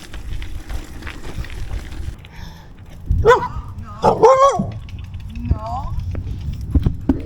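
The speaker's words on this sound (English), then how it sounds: "Silly dog." Outdoors beside a canal cycling path, a dog gives a few loud, close barks and yips in quick succession over background road and wind noise, with people talking nearby.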